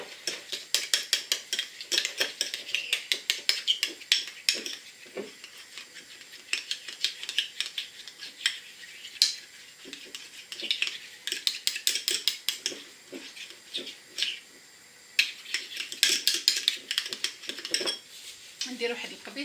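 A metal spoon stirs Nescafe instant coffee in a bowl, rapid rhythmic clinking and scraping in bursts with short pauses throughout, close and fairly loud, with no voices.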